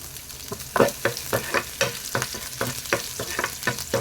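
Chopped ginger and garlic fry in hot oil, a sizzle punctuated by rhythmic scraping strokes of stirring, close and fairly quiet.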